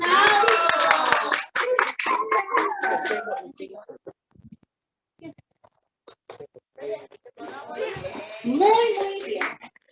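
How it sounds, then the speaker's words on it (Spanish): Children clap in bursts at a school Chilean national holidays (fiestas patrias) celebration, with brisk clapping at the start and again near the end, a quieter patchy stretch in between, and voices mixed in. "Un aplauso y ahora la foto."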